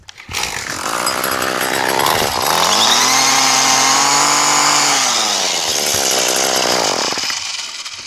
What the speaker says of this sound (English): Wasting my time on a two-stroke weed eater.